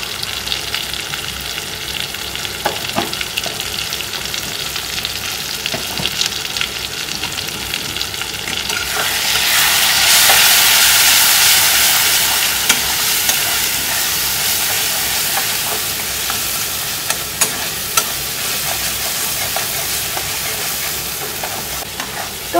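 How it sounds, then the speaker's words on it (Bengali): Spices with chili powder and cumin powder fry in a pan, sizzling steadily with intermittent spoon scrapes and clicks, then rising into a louder, hissing burst partway through before settling back to a steady sizzle. "লঙ্কার গুঁড়ো, আর জিরের গুঁড়ো দিয়ে ভালো করে কষিয়ে নেব।"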